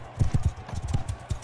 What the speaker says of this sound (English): I think I'm gonna just try to kill the horse.